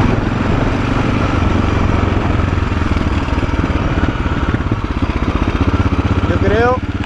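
A lightweight 2000 motorcycle idles close by, its engine ticking in a fast, even rhythm that stays loud and steady, with a short squeal near the end.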